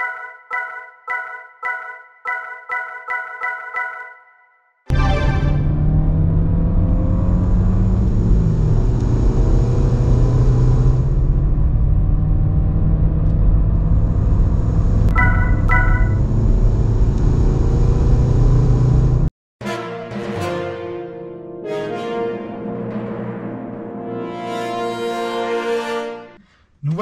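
A 2000 Volkswagen Golf 4 1.9 TDI diesel with 115 hp and a six-speed gearbox, heard from inside while driving on the road. Regular warning beeps come first, then a loud, steady engine and road rumble, then a brief gap and different tonal sounds.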